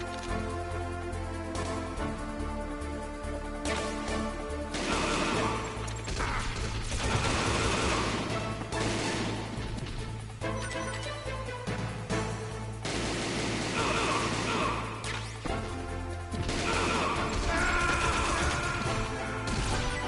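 Gunfire and clattering mechanical action from the video game Metal Gear Solid play loud and continuous over a driving game soundtrack with heavy bass.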